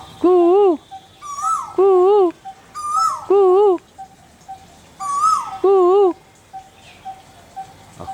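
A chakki bird calls repeatedly in bursts of warbling, wavering notes, about four loud phrases spaced a second or so apart, with quieter chirps and faint background sounds between them; no one speaks.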